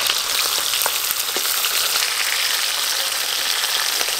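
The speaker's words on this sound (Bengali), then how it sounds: "বাটা মাছগুলো ওদিকে ভাজা হতে থাক" Bata fish frying in a pan give off a steady, dense sizzle with crackling pops, close and continuous throughout.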